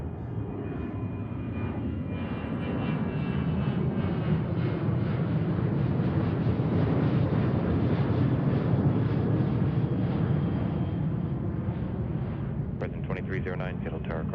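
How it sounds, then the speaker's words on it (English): A Boeing 737-900 roars on takeoff at Seattle-Tacoma airport, a loud sustained rumbling jet engine that swells and holds for many seconds, with a brief radio voice near the end. "737-900 headed off to San Diego."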